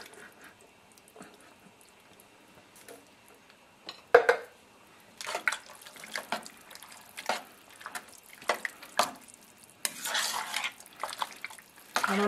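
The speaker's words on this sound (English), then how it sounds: "now we are going to add a can of the pinto beans with the juice" Canned pinto beans with their juice going into a pot of chili, heard as a loud clatter of can and pot followed by scattered splashy, stirring and scraping kitchen noises, close by and with no talk.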